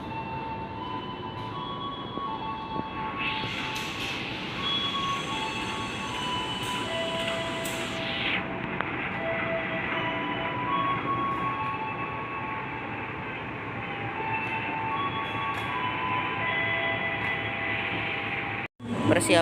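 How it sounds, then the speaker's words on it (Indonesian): The Matarmaja passenger train rumbles steadily past at close range arriving at a station platform, with a brief high squeal of wheels early on and a sharp clunk near the end. "Persiapan segera masuk di jalur 3 rangkaian kereta api Matarmaja"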